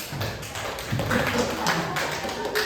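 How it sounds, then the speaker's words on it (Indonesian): Children in a classroom clap their hands together, a busy scatter of taps that grows louder after the first second, with voices mixed in. "tepuk tangan dulu"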